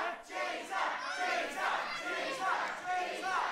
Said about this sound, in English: Crowd chanting cheater